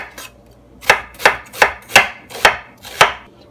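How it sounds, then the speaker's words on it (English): Knife slicing through onions on a cutting board, six sharp evenly spaced chops after a brief faint first cut, close and crisp with no talking. "We're gonna slice these onions just like this."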